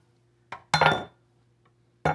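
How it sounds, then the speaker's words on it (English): An egg being cracked against a measuring cup, three sharp close clinks of shell on glass, separated by short silences. "So go ahead and crack your egg."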